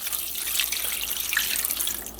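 Water poured from a measuring cup over leftover chicken bits and carcass in a slow cooker while making chicken stock; a steady, close splashing pour with bright trickling runs throughout.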